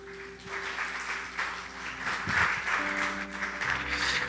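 Church congregation applauding together in a sanctuary after a closing prayer, a steady wash of clapping over sustained organ or keyboard tones, moderately loud and continuous without speech.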